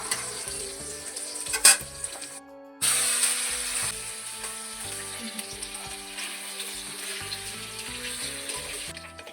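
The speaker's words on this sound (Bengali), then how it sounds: "এখন কেটে রাখা আলু, পনির আর ক্যাপসিকামটা ভালো করে লাল লাল করে ভেজে নেব" Cubed potato, paneer and capsicum fry in a pan for paneer biryani, a close, steady sizzle with occasional stirring scrapes and a brief sharp clatter, cut off by a moment of silence before resuming.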